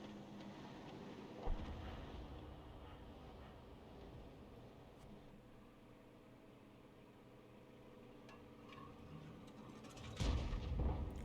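A GW E100 self-propelled artillery gun fires in World of Tanks, its shots landing as a couple of low, booming blasts, one early and a heavier one near the end, separated by a long quiet rumble of battlefield ambience.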